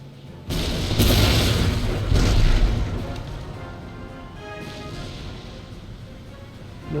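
Cannon fire in the Empire: Total War game, heavy booming blasts that roll out at the start and again around two seconds, followed by a lingering rumbling tail of distant battle noise.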